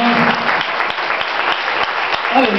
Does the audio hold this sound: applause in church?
yes